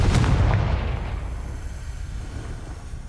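A Confringo fire spell in Hogwarts Legacy bursts into a loud, close explosive boom, then fades into a rumbling decay over a few seconds.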